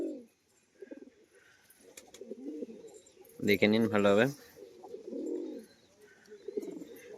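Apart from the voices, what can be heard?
pigeons cooing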